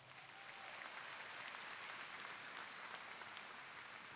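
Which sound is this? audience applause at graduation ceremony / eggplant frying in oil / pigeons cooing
audience applause at graduation ceremony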